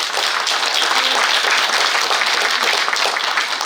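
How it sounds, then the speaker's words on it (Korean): An audience at a Saemaul Undong meeting bursts into sustained applause, a loud dense wash of many hands clapping that holds steady throughout without pause. "박수 한번 부탁드리겠습니다."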